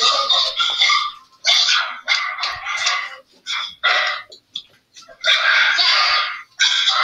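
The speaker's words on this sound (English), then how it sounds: "Colin, bring your dogs outside or something" A dog barks in repeated bursts, some quick and clustered, others drawn out, loud and close with short silent gaps between them.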